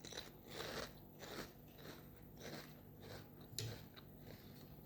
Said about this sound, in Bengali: এই কালো জিরে মাঝে মাঝে দাঁতে যখন চাপা দিচ্ছি তখন এত ভালো লাগতেছে।